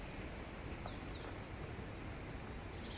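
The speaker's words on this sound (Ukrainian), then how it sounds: "Їм пташки співають, капець." Small birds chirp faintly outdoors beside a reservoir in golden autumn, scattered short calls over a steady hiss of open-air ambience, with no voices.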